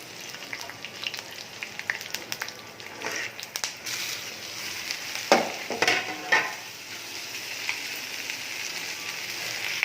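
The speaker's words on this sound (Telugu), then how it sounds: "నూనె వేడయ్యాక కొంచెం కరివేపాకు వేయాలి, కొంచెం పచ్చిమిరపకాయలు వేసుకోవాలి" Curry leaves and green chillies frying in hot oil in a pan: a close, crackling sizzle with sharp spatters and stirring scrapes, busiest in the middle and settling into steady frying.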